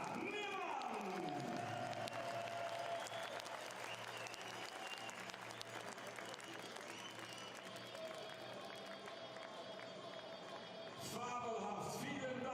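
A full ice speed skating stadium crowd applauds and cheers in a dense, continuous roar at the World Championships in Inzell, with an announcer talking over it throughout.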